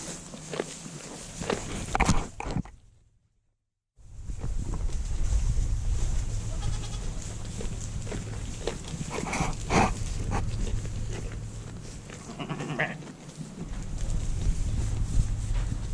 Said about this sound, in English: the big ones are Nigerian dwarf goats